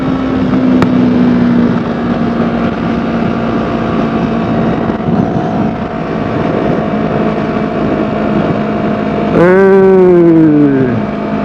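Yamaha YZF-R3 motorcycle engine drones steadily under wind noise while riding, then its pitch climbs and falls sharply as the rider overtakes near the end.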